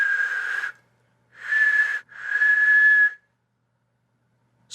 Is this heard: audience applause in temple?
no